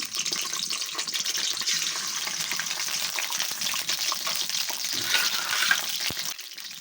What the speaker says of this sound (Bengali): ডিমগুলোনও ভাজার জন্য দিয়ে দিলাম